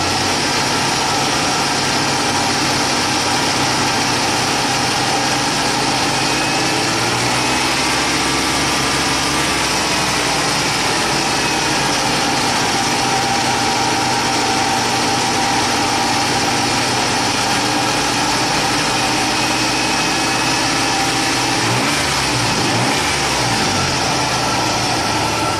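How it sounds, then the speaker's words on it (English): A Nissan Xterra engine, running rich with a P0172 fault, idles steadily and then rises in RPM, a continuous close mechanical hum with faint vibration throughout and no talk. "Let's raise the RPMs up a little bit."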